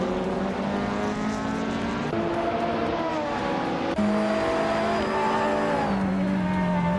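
Engines of race cars in a race, including a 2006 Lada Revolution RS2, hold a steady, loud whine, with pitch shifting up and down through gear changes as several cars run close together, with no talking.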